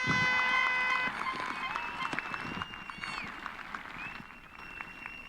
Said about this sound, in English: Let's give them a big hand for that.